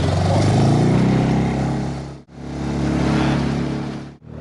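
An outboard motor drones loudly and continuously, rising and falling in pitch as it pushes a boat tender from an Olsen 38 yacht on coastal water, with two brief dropouts.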